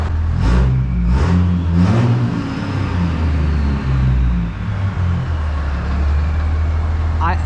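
Truck engine after a valve adjustment, revving in three quick sharp blips, then settling into a low rumbling idle with smaller rises in pitch, close and loud.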